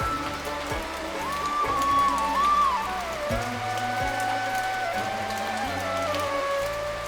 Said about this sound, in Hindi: बारिश हो रही है, अब तो सब गीला हो जाएगा।